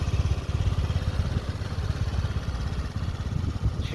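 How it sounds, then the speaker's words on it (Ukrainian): A Honda Dio JF31 fuel-injected scooter engine runs close up, its low putter pulsing in a steady rapid rhythm, loud and alone without any talking. "Гарна робота двигуна."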